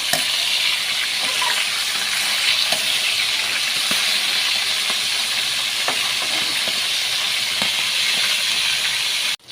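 Steady, dense sizzling and hissing of flour-dusted fish frying in hot oil, constant and close throughout with no talking.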